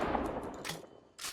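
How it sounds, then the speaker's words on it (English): Double barrel shotgun in Fortnite fired twice, each a sharp broadband blast with a short decaying tail, the shots spaced about half a second apart over low game ambience. "this is going to be the double barrel shotgun"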